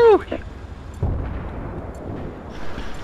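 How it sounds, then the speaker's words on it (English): A rocket launch in a multiplayer video game with tanks in play: a brief whooshing launch tone at the start, then a deep rumbling impact boom about a second later that fades into background noise. "Fire rocket!"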